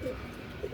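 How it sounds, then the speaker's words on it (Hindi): A pigeon of a golden breed line, kept for racing or breeding in Sialkot, coos low and softly nearby, with muffled ambient noise throughout. "ये जाहिद भाई के जनाब फेवरेट कबूतर हैं"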